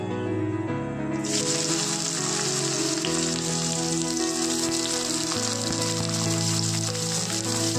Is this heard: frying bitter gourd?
yes